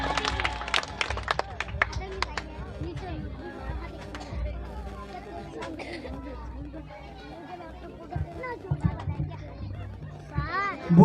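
Crowd of children and adults at a school cultural program in Panjipara, with scattered clapping mixed into loud chatter and children's voices, bursts of claps rising near the end.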